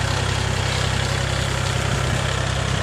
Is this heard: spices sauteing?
no